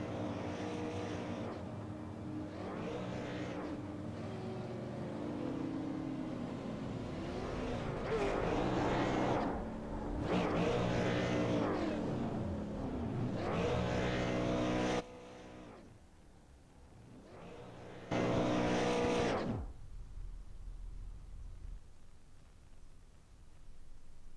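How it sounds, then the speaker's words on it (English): A super late model race car does a victory burnout at the Milwaukee Mile during a SARA GM Parts XPerts series race. Loud, rough engine roars swell and fade in several long bursts, heard at a distance over steady crowd and track noise. "a nice little victory burnout from your race winner"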